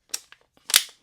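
Click of the magazine release being pressed on a Canik TTI pistol, a couple of short, crisp mechanical clicks close up, with a faint tick between them and no talking.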